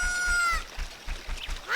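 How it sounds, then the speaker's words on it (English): A chicken in a video game lets out a bright, drawn-out call, then settles into short clucks over a steady, pulsing low thump. "The chicken."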